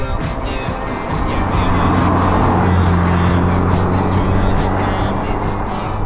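A 3-litre car drives past at speed, its engine a loud, steady rising and falling drone with a low throbbing note that swells in the middle and fades slightly toward the end.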